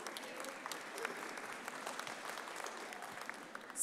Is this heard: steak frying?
no